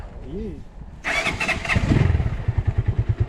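Geon GNS 300 motorcycle with no muffler starts up abruptly after a moment of voice, then idles loud and close with a rapid, uneven, choppy exhaust pulse.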